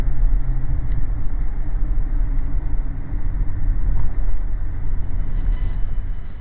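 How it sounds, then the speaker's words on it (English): Highway traffic at a crawl as cars merge on an on-ramp, heard as a steady low rumble of engines and tires that stays fairly loud throughout, with no voices. "this is cars merging on, yeah, at like a snail's pace"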